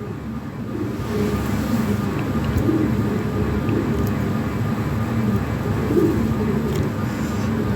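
Low, soft cooing of Lahori Sirazi pigeons repeating at intervals over a constant background rumble, moderately close.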